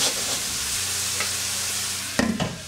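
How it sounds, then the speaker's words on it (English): Sweet potatoes sizzle steadily in a pan, a dense continuous hiss with light stirring, then near the end vegetable broth is poured in and sharp bursts of sizzling flare up loudly. "Now I'm gonna add some vegetable broth to finish cooking."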